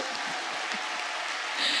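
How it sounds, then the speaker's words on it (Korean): A church congregation at a revival prayer gathering claps, a continuous mid-level wash of hands sounding somewhat distant and diffuse, with some voices underneath. "근데 왜 이쪽만 박수 쳐요?"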